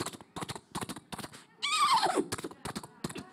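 A man imitates a horse neighing with a single shrill, descending whinny, set between rhythmic, evenly spaced bursts of sound that come before and after it.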